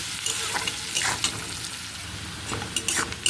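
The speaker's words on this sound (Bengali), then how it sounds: "হলুদ আর নুন দিয়ে পেঁয়াজটা আরও দু তিন মিনিট লাল লাল করে ভেজে নেব" Onions frying in a pan with salt and turmeric, a steady close sizzle with intermittent scraping stirs and clinks of a spatula against the pan.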